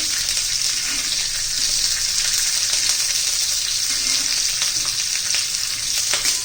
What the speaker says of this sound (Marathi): मऊ पडेपर्यंत आपल्याला ही शिजून घ्यायची आहे तेलामध्ये एक मोठा चमचा मी तेल घातलेला आहे